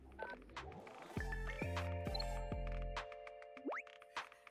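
Electronic telephone dialing tones from a phone ad in a Jackbox party game play as a series of stepped, bouncy beeps and a rising slide, clear and fairly loud with no talking.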